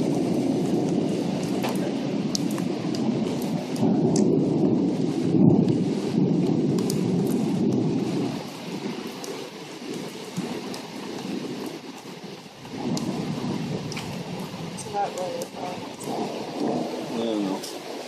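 Thunder from a lightning storm on October 30, 2012 rumbles loudly and continuously, with heavy low booming in the first half, a dip, then renewed rolling peals; rain-like hiss runs throughout and faint voices occasionally surface.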